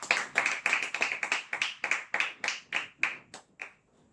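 Church congregation applauding during a sermon, a thin scattering of distinct hand claps in an uneven rhythm that thin out and stop after about four seconds.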